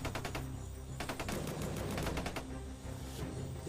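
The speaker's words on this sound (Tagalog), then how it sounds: "Daming putok." Distant gunfire during a pursuit of bandits comes as faint, rapid clusters of many gunshots, with bursts repeating over a steady background.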